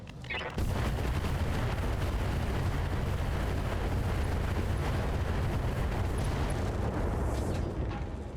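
Mech weapons fire a volley in the Battletech Roguetech video game, a dense roar of overlapping gunfire and explosive blasts that starts abruptly and holds loud and sustained throughout.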